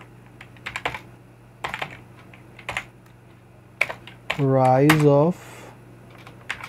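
Sparse keystrokes on a computer keyboard come in short clusters of clicks with pauses between them, close and fairly quiet, while a voice speaks briefly partway through.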